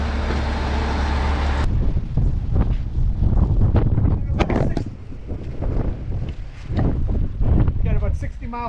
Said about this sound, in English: Got about 60-mile-an-hour winds out here. It's crazy. It's like gusts.